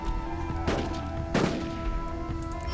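Gunfire from soldiers in the Rise of Nations strategy game: two sharp, loud shots about half a second apart, over a steady bed of game music and ambience.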